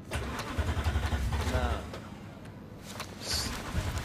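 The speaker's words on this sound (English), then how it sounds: "Let's start that engine, kind of go power" A car engine in Cyberpunk 2077 starts with a low rumble, then settles into a steady mid-pitched idle for a few seconds while game sound plays around it.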